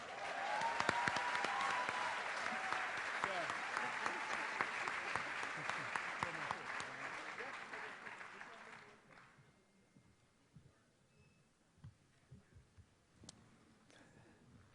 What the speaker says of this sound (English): please give a round of applause for Dr. Michael Eric Dyson.